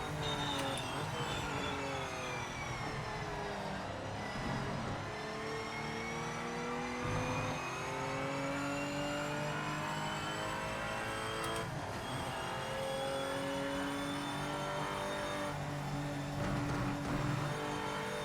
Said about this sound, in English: These Porsches still feel really good to drive, man.